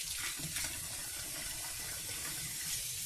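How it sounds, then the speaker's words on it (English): Tap water running steadily into a kitchen sink as romaine and iceberg lettuce are rinsed, a continuous close splashing hiss with slight variations and no talk. "Going to rinse our lettuce off, make sure it's good and clean."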